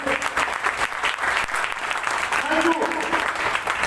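At a business seminar in Kota, a hall audience breaks into vigorous, sustained applause for Mahaguru Ramveer Singh, loud and uneven, with voices mixed into the clapping.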